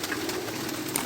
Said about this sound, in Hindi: उस्ताद हरी ने अपना छत ते कबूतर शबूतर जेह्ड़े न साम रहे ने